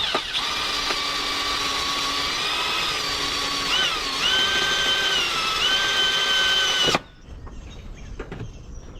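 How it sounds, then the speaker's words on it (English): A power drill whines loudly and continuously, drilling a hole for a rivet nut in a turbo Honda Civic, its pitch shifting slightly as it bites, then cuts off abruptly, leaving quiet shop noise. "So we'll drill this out and use a nut cert or a riv nut"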